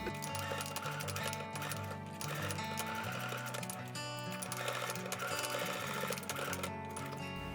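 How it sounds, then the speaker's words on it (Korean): A sewing machine runs steadily, basting elastic onto a fabric sleep mask with a fast, continuous, close mechanical whir that keeps going with almost no pause. "재봉을 해둘게요."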